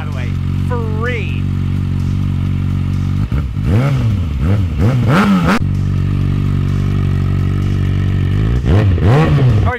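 A Kawasaki ZX6R sport bike with its exhaust removed idles loudly and then blips its throttle in sharp repeated revs, a raw, rasping roar rising and falling up close, then a final pair of revs.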